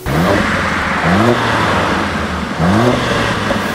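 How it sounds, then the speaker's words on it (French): Mercedes A45 engine revving in repeated throttle blips, each rising whine of revs followed by settling, loud and close, with no exhaust pops or crackles. "je vous remets les mêmes coups de gaz, mais on va retirer les proutes"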